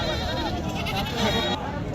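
Goats bleat at a goat market, a Sindhi goat and kid among them, several overlapping cries close by amid crowd noise and background talking.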